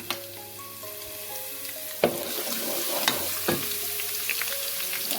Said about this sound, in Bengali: তেলটা গরম হয়ে গেছে এখানে একটা আস্ত একটা রসুন যেটা কুচি করা